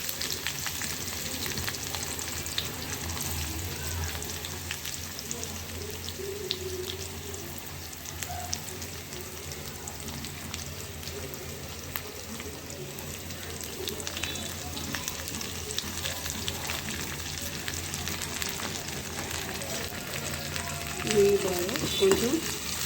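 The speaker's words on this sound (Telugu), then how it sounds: "కరివేపాకు ఫ్రై చేసేసుకోవాలి" Onions and curry leaves fry in hot oil with tempering spices, making a steady, close, continuous sizzle and crackle that holds an even level throughout.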